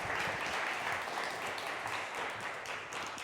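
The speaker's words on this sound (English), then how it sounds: "Please, a big applause for Aukje." Steady applause from an audience closing out the online grand finale of the TU Delft Impact Contest 2021, honouring a finalist; dense, even clapping fills the whole stretch with no voices over it.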